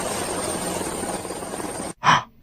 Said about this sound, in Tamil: என்ன ஹெலிகாப்டர் சத்தம் கேக்குது?